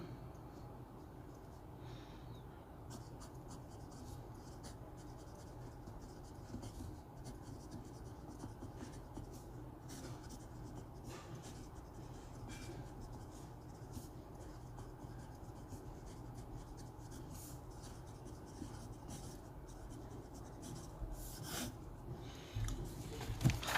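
An oblique broad-nib Montblanc Meisterstück 146 fountain pen writes on paper, making faint, close, continuous scratching strokes for over twenty seconds in a quiet room.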